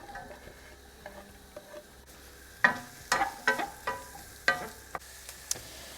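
Food cooks in olive oil in a pan, a quiet sizzle at first, then a cluster of sharp clacks and scrapes from stirring against the pan over the final few seconds.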